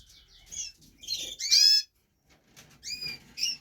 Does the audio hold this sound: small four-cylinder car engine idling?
no